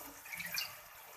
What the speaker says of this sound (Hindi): इसके अंदर अब डालेंगे हाफ कप के करीब पानी,